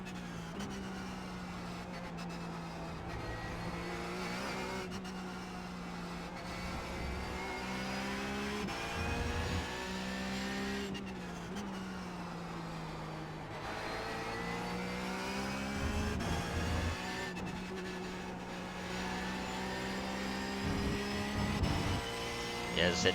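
Porsche 911 GT3 Cup race cars lapping Spa in a racing game, a loud continuous engine howl rising and dropping through gear changes, with other cars blending in and a voice talking over it at times.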